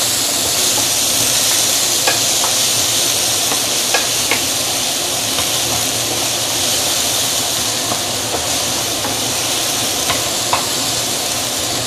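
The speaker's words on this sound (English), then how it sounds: "let's saute. You don't want to use too high heat on this." Fresh herbs and aromatics sauté in a pan over moderate heat, giving a loud, continuous frying hiss broken by occasional light ticks and taps from stirring, with no voices.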